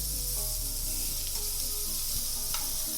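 Sausages, peppers, tomatoes and mushrooms sizzle in a hot pan for Creole pasta, a loud continuous frying hiss with small crackles and pops.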